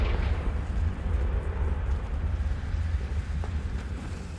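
A Confringo fire spell cast in the Hogwarts Legacy video game gives a steady, loud, rumbling roar that fills the whole clip with no break and no talking.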